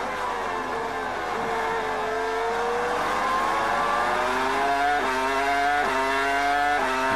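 A 2002 Sauber Petronas Formula One car with a Ferrari engine, driven by Heidfeld on the circuit at the European Grand Prix practice, screams loudly through the gears. Its pitch rises steadily, with quick upshifts near the end.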